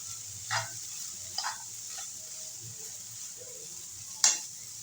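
Spiced chicken filling for spring rolls, seasoned with black pepper, is mixed and fried in a pan. It gives a faint, steady sizzle, with a few soft scraping stirs spaced through it.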